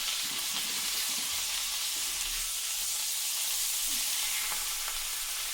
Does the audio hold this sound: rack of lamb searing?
yes